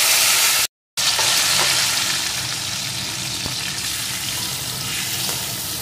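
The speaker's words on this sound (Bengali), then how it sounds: "এখন দিয়ে দেবো একটা টমেটো কুচি আর কয়েকটা চেরা কাঁচা লঙ্কা।" Chopped tomato and slit green chillies go into a hot frying pan for a thin Tangra fish and potato curry, bringing a loud, bright, continuous sizzle with occasional soft stirring clicks and a brief dropout near the start.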